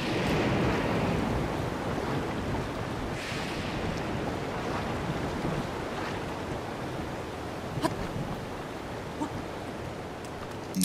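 Continuous rushing water roar of a waterfall in Zelda: Breath of the Wild, a steady broadband wash with a few faint clicks near the end, no talking.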